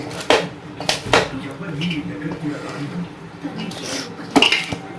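Raw mango pickle is mixed in a bowl with mustard and fenugreek powders, salt and chili, with a spoon clinking and scraping against the dish in uneven strokes while a voice talks nearby.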